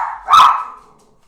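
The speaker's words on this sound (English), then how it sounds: "sorry for all the people out there whose dogs are now barking." A single loud, sharp dog bark rings out close by and fades quickly, with nothing else heard.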